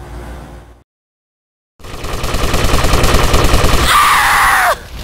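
Rapid machine-gun fire from the video game GTA Vice City, a loud sustained burst after a brief silence, with sharp ricochet-like squeals near the end.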